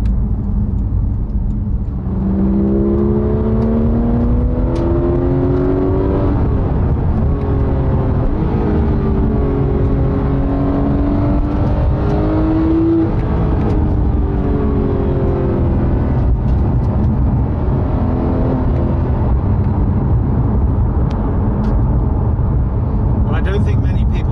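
Loud Porsche GT3 engine revving up through rising pitches, droning steadily inside the cabin with some ticking.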